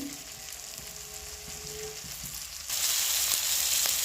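Potatoes and kohlrabi with turmeric, chili powder and salt frying in a pan, a steady close sizzle that swells louder and brighter partway through, with no talking.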